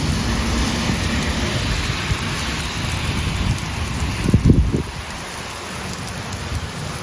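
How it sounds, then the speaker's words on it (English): Steady heavy rain falling in Florida, a dense continuous hiss of drops on surfaces nearby, with a brief low rumble in the middle and no voices. "It's supposed to be rainy like this all week long."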